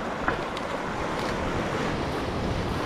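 Ocean waves surging and washing steadily around a small boat out at sea, a continuous broadband roar with wind buffeting the microphone and no voices.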